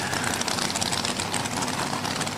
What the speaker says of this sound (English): Alicia Naylor comes out in the Denali Hot Shots rear engine dragster